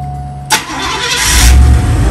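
A 1983 Cadillac DeVille cranks briefly and catches with a sharp burst, then settles into a deep, steady rumbling idle, close and loud with no talking.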